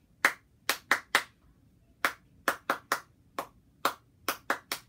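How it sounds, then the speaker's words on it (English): A run of sharp hand claps, grouped in quick bursts with short pauses, crisp and close against a quiet background with no talking. "We just have five claps."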